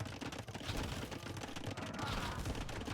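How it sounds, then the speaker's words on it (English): Bombard cannons firing in a battle in the strategy game Age of Empires II, a dense fusillade of bursts and impacts running continuously under a loud, busy game mix. "And we have bombard cannons from Hoi trying"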